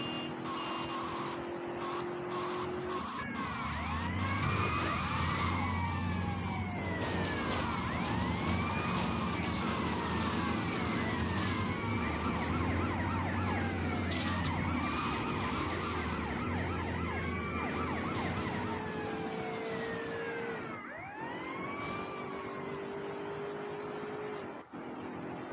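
A police siren in GTA Vice City wails continuously in rising and falling sweeps over a low engine drone, fairly steady and moderately loud for the whole stretch, with a brief dip near the end.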